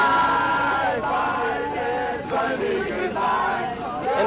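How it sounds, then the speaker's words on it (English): A crowd of hundreds gathers before dawn outside Ted Bundy's 1989 execution, a steady dense murmur of many voices with scattered shouts and whoops, continuous and fairly loud throughout. "An unprecedented crowd of hundreds started gathering before dawn."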